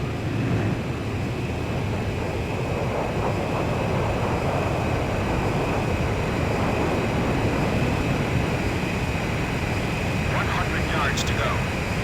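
Steady, dense jet engine roar from a fighter plane in Ace Combat 5 as it closes on a refueling craft during a mission, unbroken for the whole stretch, with faint distant radio voices.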